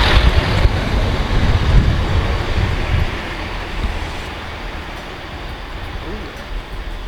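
A passenger train passes at a station, its rumble loudest at first and then fading to a lighter rolling hum, with traffic-like background noise.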